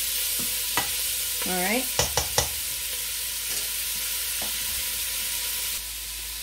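Onions frying in a pan on a turned-down stove make a constant soft sizzle, with a few sharp utensil clinks and stirring scrapes; a voice speaks briefly.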